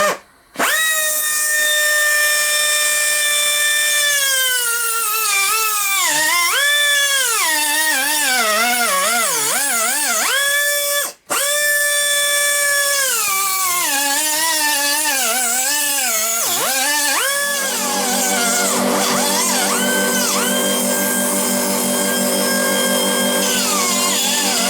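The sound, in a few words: small grinder cutter cutting out a bearing shell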